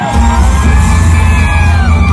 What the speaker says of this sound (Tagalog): Labungin ng mainit na palakpak at sigawan, Vice President Sara Duterte!